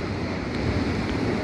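Waves and wind on a rainy coast make a dense, continuous roar, with steady wind buffeting the microphone and no voices.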